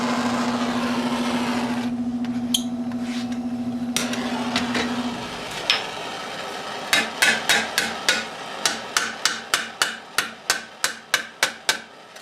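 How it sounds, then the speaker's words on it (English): Steel gauntlet plate for a Milanese mitten gauntlet is hammered on an anvil horn, first under a steady machine hum, then a sharp, evenly spaced run of ringing metallic blows that grows quicker toward the end. "So I'm actually hammering in that way."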